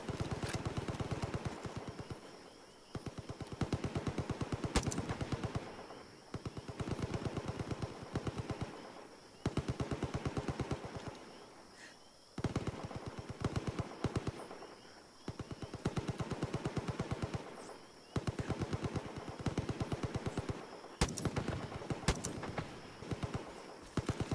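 Enemies fire on the player in the Far Cry 5 video game: dense, rapid bursts of automatic gunfire rattle in repeated volleys of a few seconds each, with brief pauses between them and loud, steady intensity throughout.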